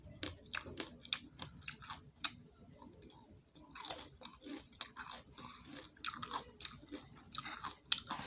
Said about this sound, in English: And crunch.